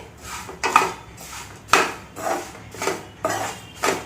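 Roasted poha coated with turmeric stirred in a pan over low heat, with six rhythmic scraping clinks of a spoon against the metal, close and clear with no talk.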